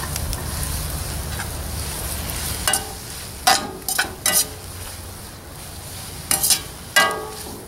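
Anaheim chile going into a pot of chicken soup, with a steady simmering sizzle under a series of sharp scraping and clinking spoon strokes against the pot in short bursts.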